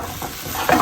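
Pork and vegetables such as cabbage, pan frying for yakiniku, with a short burst of sizzling and a spatula scraping and stirring in the pan, heard close up.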